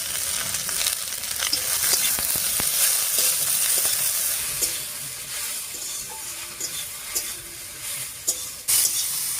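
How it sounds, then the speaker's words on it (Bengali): Chopped bottle gourd leaves sizzle in hot oil in a pan while being stirred, a continuous frying hiss broken by repeated scraping clicks of the spatula, close and steady with no talking. "লাউ শাকটা দিয়ে একটু ভাজা ভাজা মতো করে নিয়েছি।"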